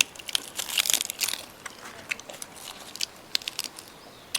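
Close-up crunchy chewing of squid, a burst of crisp bites followed by irregular crunches and quieter mouth sounds.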